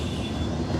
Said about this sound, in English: Sorry about the train in the last moment.